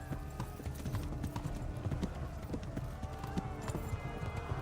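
Horse hooves gallop in a steady clip-clop rhythm across a video game landscape, close and continuous, with game music and ambient sound layered underneath.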